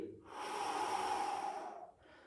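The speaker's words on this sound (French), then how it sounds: "Lentement, j'inspire, je m'auto-grandis. Et je souffle, je rentre le ventre." Slow, steady breath during a muscle-strengthening exercise: one long, audible, airy exhalation lasting nearly two seconds, close to the microphone, with no talking over it.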